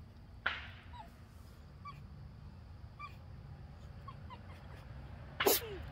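A fox gives one short, sharp sneeze near the end, after a quiet stretch with a soft snort early on and faint chirps.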